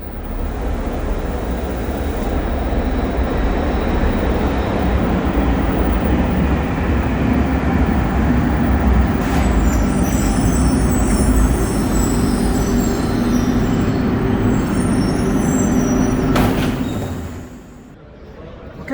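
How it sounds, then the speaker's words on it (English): A train pulls into a station platform in Rome, a loud, steady rumble of wheels and machinery that holds for about seventeen seconds before easing off, with a brief hiss near the end. "it looks like the train's coming right now"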